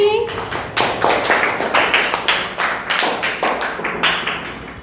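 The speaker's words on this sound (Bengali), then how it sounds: "জন্য জোর হাতে তালি" Children in a classroom clap their hands in a fast, steady volley of many overlapping claps, loud and close, with a voice speaking over the start.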